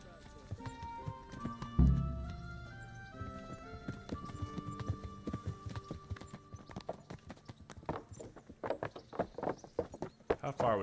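Horse hooves clip-clop while riding in the video game Kingdom Come: Deliverance, a steady run of hoofbeats under game music and voices, growing busier and louder toward the end.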